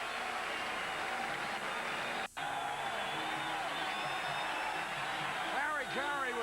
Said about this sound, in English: Listen to this crowd as Chris Brown comes up